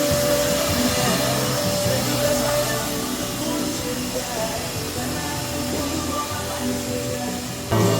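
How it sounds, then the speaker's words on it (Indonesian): A vacuum cleaner runs steadily while cleaning the interior of a Honda CR-V 2.4 AT, a continuous loud whooshing drone that holds throughout with a brief change near the end. "kita vakum juga."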